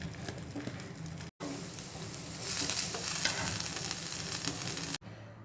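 Cut paneer fries in butter in a pan, giving a dense, continuous crackling sizzle that swells louder midway, with two brief cuts to silence and no talking.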